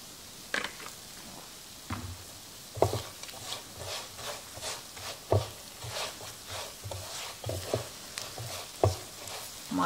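Walnuts, already toasted, sizzle and crackle in vegetable oil while being stirred, with repeated close scraping strokes over a low, steady frying hiss.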